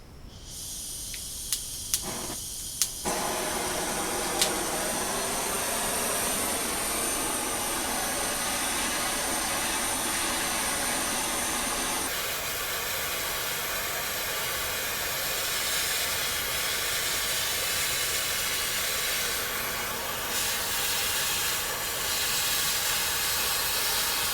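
A torch roars steadily while heating a seized part on a crusty old PEXTO bead roller so it can be pulled off, a continuous broad hissing rush that runs close and loud throughout after a few faint clicks at the start, with no voices.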